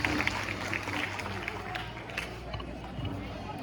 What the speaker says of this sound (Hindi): जोरदार तालियों से स्नेहा का स्वागत कीजिए